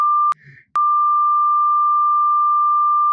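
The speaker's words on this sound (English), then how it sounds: "So in the beeps, I left in the tone like this." A steady electronic beep tone that sounds briefly, cuts out for a split second, then returns and holds loud and unbroken.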